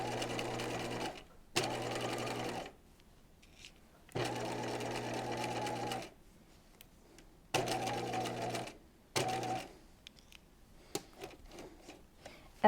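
A sewing machine stitches an apron dress right beside a fold, reinforcing with back-and-forth passes: several close, steady motor runs, each a second or two long, separated by short quiet pauses and faint handling noises.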